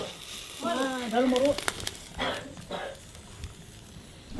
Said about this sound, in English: then sort of lets it steam and fry away at the same time